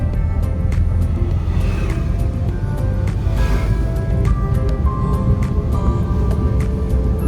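A driving-school car pulls away, its engine giving a steady low rumble close by, with faint clicks over the continuous drone.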